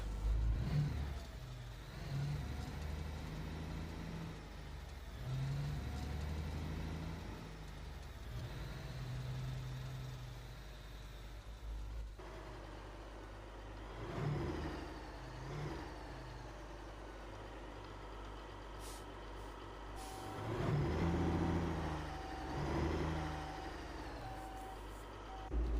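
A game truck in Alaskan Road Truckers pulls away after its handbrake comes off, with a low diesel engine rumble building and revving, intermittent reversing beeps, and a couple of louder surges near the end, with no talking.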